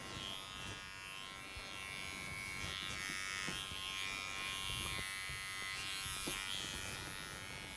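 An electric razor shaves the back of a man's neck below the hairline in a barber class, giving a steady close-up buzz with faint scraping passes and no talk.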